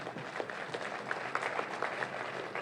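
Scattered, fairly faint clapping rises from delegates at a national trade union congress, brief and uneven with a few distinct hand claps above a soft hall murmur.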